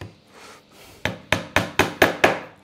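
A hammer drives a small upholstery tack into wood during mahogany veneering work: after a few faint taps come five sharp, evenly spaced strikes, close and loud, each ringing briefly.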